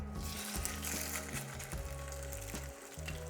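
A Mangalitsa pork chop sears in olive oil in a hot pan, giving a steady crackling sizzle with irregular pops and spits under a low background hum.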